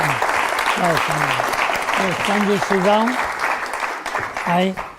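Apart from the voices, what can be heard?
audience applause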